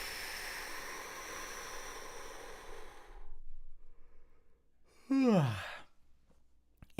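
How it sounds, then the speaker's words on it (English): A long, steady breath is pushed out for about three seconds during a vagus nerve breathing exercise. After a pause comes a brief voiced groan, like the start of a yawn. "And exhale."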